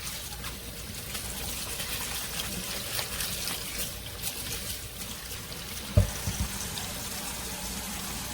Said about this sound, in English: Okay, so let's rinse this. With cold water.